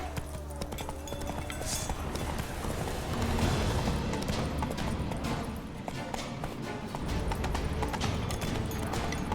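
Roach, a horse in The Witcher 3: Blood and Wine, gallops with a fast, continuous clip-clop of hooves under a busy game soundscape, steady and fairly close throughout.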